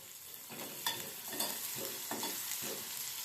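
Chopped onions frying in a pan with a pinch of salt for shavige uppittu, a soft steady sizzle broken by repeated scraping strokes of a spatula, several stirs at a moderate pace.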